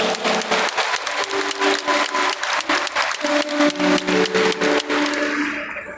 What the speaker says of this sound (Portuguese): Uma salva de palmas para ele aqui, gente.